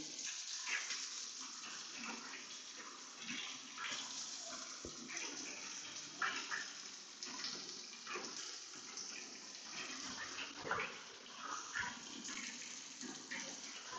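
Water splashes and pours steadily over a Studds Ninja Elite motorcycle helmet during a waterproofing test, a continuous close gushing and spattering without speech.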